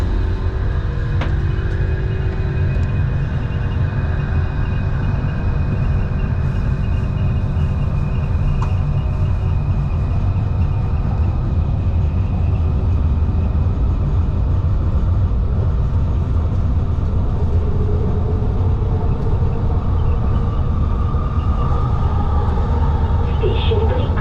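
An LRT train rides through Kuala Lumpur, heard from inside as a loud, steady low rumble of wheels and motors with faint background voices.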